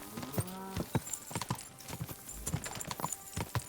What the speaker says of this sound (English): You are a beautiful horse.